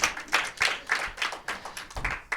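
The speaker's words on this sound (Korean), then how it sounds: "박수 한번 주세요." Congregation at a Sunday church service clapping in a loose rhythm of about eight bursts, steady and fairly close, with no talk over it.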